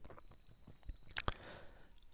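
Village goats chew leaves and foliage, a few soft crunching bites and one sharp snap standing out among quieter rustling chews, close by and moderately loud with no talking.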